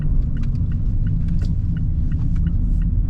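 A 2021 Mazda Miata RF Grand Touring, a rear-wheel-drive manual roadster, driving through a turn: a loud, steady low engine and road rumble heard from inside the cabin, with light rattles over the top.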